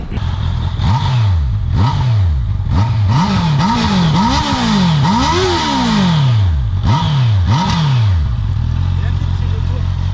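A Honda CB650R motorcycle engine revs repeatedly in loud, rising and falling bursts, close by, with brief pauses between throttle blips.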